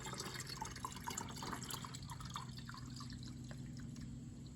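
Windshield washer fluid poured into a car's reservoir, a faint steady trickle with small drips and splashes, close up and without talk.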